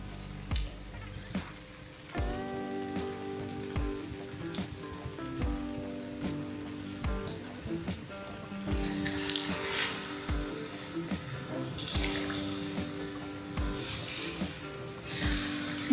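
Scrambled eggs with sausage, milk and flour sizzle and crackle steadily in a hot pan, with a few soft clinks and scrapes over a quiet hum.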